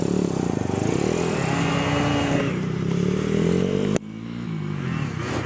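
A motorcycle pulls away and accelerates, the engine rising in pitch and then dropping as it shifts up through successive gears, loud and close with wind noise, and a sharp knock near the last shift.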